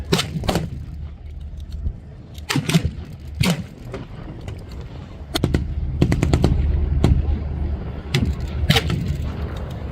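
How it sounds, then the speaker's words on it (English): Machine guns on a Panzer III tank fire during a battle demonstration at an outdoor Tiger Day event: loud, sharp bursts of rapid shots in several separate volleys over a low engine rumble. "the initial purpose of the Panzer III has got machine guns, 2 machine guns there"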